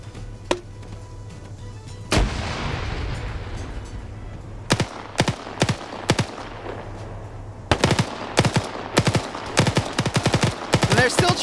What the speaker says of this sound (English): They're still trying to shoot the window.